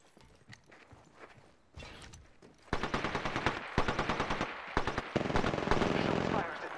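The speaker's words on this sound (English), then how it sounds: "Someone's got a shot on me. Getting shot at." Gunfire in the video game Apex Legends, loud rapid automatic bursts close by, separated by brief gaps, over softer footsteps and game sounds with a voice speaking earlier in the clip.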